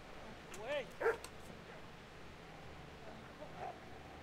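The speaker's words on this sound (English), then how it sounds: "It's a dog." A dog in Kingdom Come: Deliverance barks twice in quick succession at moderate distance, followed by a fainter yip, with quiet ambient background and little else.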